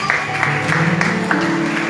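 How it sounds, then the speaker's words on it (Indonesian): Applause from a crowd at a Christmas church service in Indonesia, steady and fairly loud over background music, with a few voices mixed in. "Oke, tepuk tangan guys"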